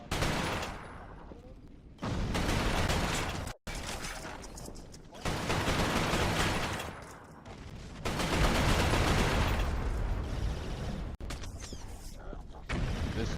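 Dense bursts of gunfire from the shooter game Resistance: Fall of Man, loud sustained volleys broken by short gaps, near and continuous with no voices over them.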